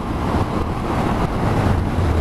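A 2020 Benelli 752S motorcycle cruises at 70 mph around 4,800 revs, a dense, steady roar of wind buffeting over a low engine rumble, close and constant.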